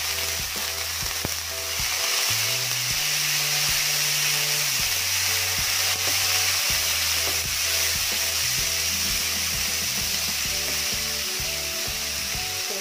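Minced pork sizzling loudly with garlic in a hot pan, a steady broadband frying hiss with occasional stirring scrapes and a low hum underneath, no voices.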